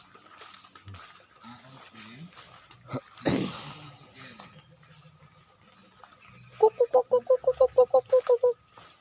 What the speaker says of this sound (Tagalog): Yun ang maririnig mo dito guys, mga huni ng ibon.